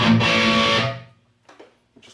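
Electric guitar through an engaged distortion pedal set for a heavy metal tone, a loud, saturated chord ringing for about a second then cut off, followed by a few faint muted scratches and no talk.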